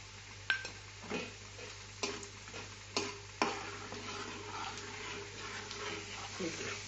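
Five-spice seeds, two dried chilies and a little cinnamon fry in oil with garlic, giving a low sizzle broken by several sharp spatula taps on the pan while a person talks.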